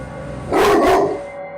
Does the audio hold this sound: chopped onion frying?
no